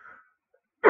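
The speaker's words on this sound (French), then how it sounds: "je tousse" A single short, sharp cough bursts out near the end after a brief wheezy breath and near silence, close and fairly loud.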